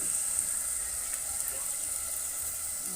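Onions fry in oil for a Godavari-style fish curry over a wood stove. They give a steady, close sizzling hiss that holds evenly throughout without pause.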